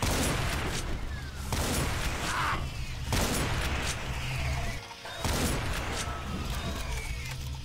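Gunfire from Doom with the Project Brutality mod, a dense, continuous stream of game shots and explosions that runs almost unbroken, dipping briefly once before resuming.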